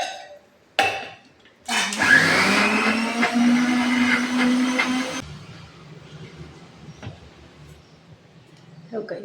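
A mixer grinder roars loudly for about three and a half seconds, grinding moong dal into a coarse batter for vadas, then cuts off to quieter kitchen sounds and a short final click.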